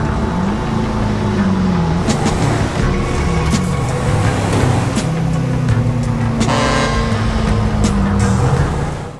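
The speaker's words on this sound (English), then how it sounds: "And this is how Jimmy's BJ sounds." Jimmy's modified BJ car engine in a GTA video game, a loud, continuous engine roar with shifting pitch and a few sharp clicks, with no voices over it.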